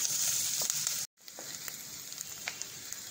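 Onions sauté in a pan for a sardine fish curry, giving a soft continuous sizzle that cuts out for a moment near the one-second mark, then resumes at a lower level with faint crackles.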